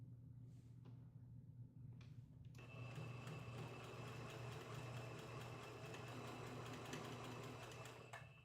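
A sewing machine starts up after a few quiet seconds and runs steadily with a dense mechanical whir and rapid stitching rhythm, close by, chain-piecing quilt pieces.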